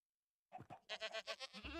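Goats bleat in the Minecraft video game, with a couple of short calls followed by a longer wavering bleat, close and fairly clear.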